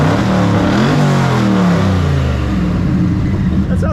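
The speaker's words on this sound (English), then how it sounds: "All right, let's do a rev." A custom twin-turbo 1100 hp Fox Body Mustang engine revs up loudly close by, its pitch climbing and then sliding back down to a rough idle.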